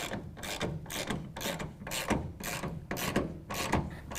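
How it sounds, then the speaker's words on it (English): Ratchet wrench with a 7/16 socket tightening a metal rail clamp for a Pace Edwards SwitchBlade tonneau cover on a 2007-2013 Chevy truck bed, giving a steady run of close, rapid clicking strokes. "we're going to want to hold this rail level while we tighten this down with a 7/16"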